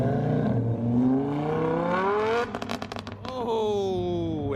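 A Ferrari sports car at an outdoor cars-and-coffee meet revs loudly and close by, its engine pitch climbing and falling through several sweeps with sharp crackles in between, with people talking nearby.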